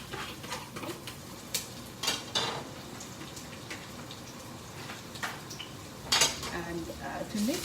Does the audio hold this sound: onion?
yes